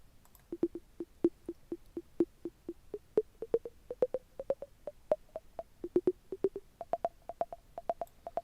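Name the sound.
synth tom with octave pitch ramp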